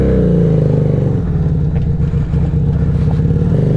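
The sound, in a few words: scrambler motorcycle engine while riding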